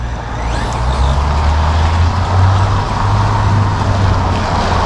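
A Traxxas Summit brushless RC truck drives through snow, its electric motor a steady close whine with a low rumble that rises and falls slightly over several seconds.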